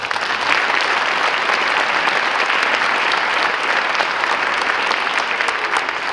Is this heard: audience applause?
yes